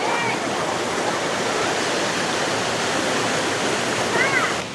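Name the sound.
water flowing at Bamni Falls waterfall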